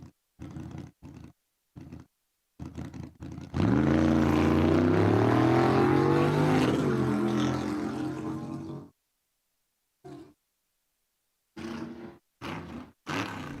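A white Mustang drag racing at Empire Dragway: a few short engine bursts, then a loud, sustained roar of about five seconds that cuts off, followed by more brief revs, with no voices.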